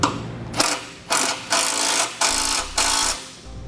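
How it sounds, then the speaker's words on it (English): Ratchet wrench with a 9/16 socket tightening 3/8 nuts on base plate bolts of a 2016 Chevrolet Traverse: five or six crisp, rapid clicking bursts in a steady rhythm, close and alone. "With the lower bolts installed on both sides, we can begin to tighten them up."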